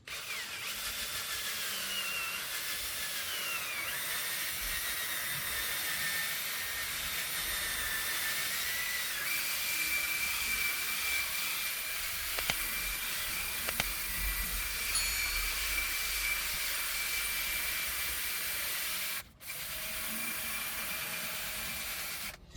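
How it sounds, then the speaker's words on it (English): A power drill whirs steadily for a long stretch, its light-bristle spinning brush scrubbing a white car seat with a hissing, whining tone, cutting out briefly near the end. "next we're gonna take our drill here and just start agitating"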